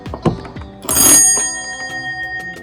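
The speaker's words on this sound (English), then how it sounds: "This is our cool doorbell." A doorbell at a beach cottage double-wide mobile home rings loudly up close, a sharp strike followed by a bright chime that rings on and slowly fades.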